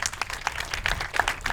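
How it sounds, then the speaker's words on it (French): An audience at a talk on a youth antifascist movement claps in a brief burst of scattered applause from a moderately close crowd. "Non, il faut le dire, c'est vrai, il faut applaudir."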